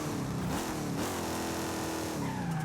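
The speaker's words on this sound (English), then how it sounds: "That's perfect third gear burnouts though." A car in the Forza video game does a third gear burnout, its engine revving hard under a continuous tire squeal that shifts pitch a couple of times across a short, loud stretch.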